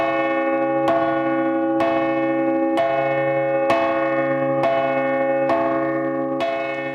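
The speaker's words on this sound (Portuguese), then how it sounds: "Este é o som do sino mineiro que vai tocar em terras catarinenses." A handmade 1,650 kg church bell tuned to C, fresh from final polishing and struck without its clapper, rings eight times at a steady pace. Each strike is bright and close, and its rich, humming tone carries over into the next.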